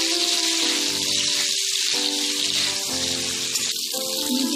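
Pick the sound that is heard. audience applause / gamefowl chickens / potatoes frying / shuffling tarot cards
potatoes frying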